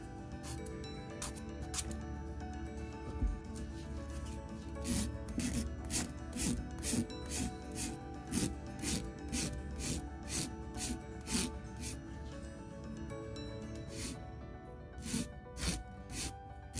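An acrylic dip powder nail is filed to keep its curve, giving a steady run of short, close scratchy rasping strokes in a quick rhythm, with no talk.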